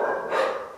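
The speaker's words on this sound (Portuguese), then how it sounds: "Desculpem o cachorro latindo" A single short, sharp dog bark sounds indoors at moderate distance, brief and clear with no talk over it.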